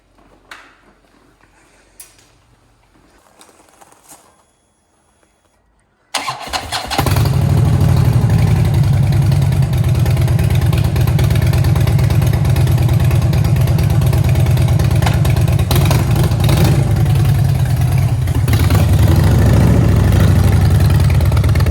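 A Harley-Davidson Dyna motorcycle cranks after some quiet shuffling, then its engine catches and roars, rumbling loud and close with a deep, lumpy idle and occasional revs that hold steady to the end.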